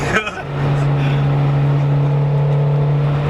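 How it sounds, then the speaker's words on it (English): A Nissan Sentra 200SX SR20DE engine pulls with a steady, sustained drone that holds an even pitch after a brief opening bump, heard from inside the car. "And I love the response of the engine."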